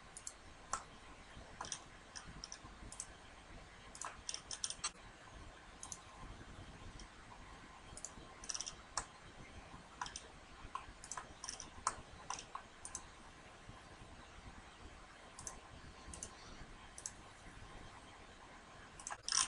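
Computer mouse clicking during SolidWorks CAD work, scattered sharp clicks, single and in small clusters, faint and close over a quiet room hiss with no talk.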